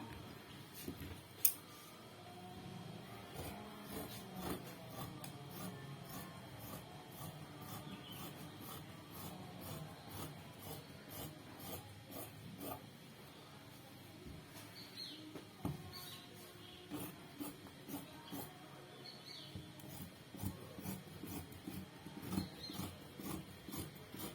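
Scissors cut through cloth for a small baby dress, a faint, quiet series of snips and rubbing fabric sounds repeating irregularly over a soft background, with no talk.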